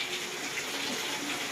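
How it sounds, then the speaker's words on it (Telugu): Heavy monsoon rain pours down steadily, a dense, loud wash of falling water with no pauses and no voices. "మనకైతే వర్షం అయితే బీభత్సంగా పడుతుందండి"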